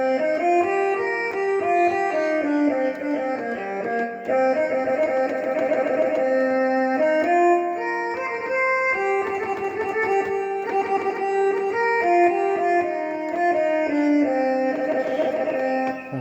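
A Korg X5 synthesizer imitates a Thai so fiddle, playing a continuous winding folk melody with sliding notes over a steady drone, alone and moderately loud.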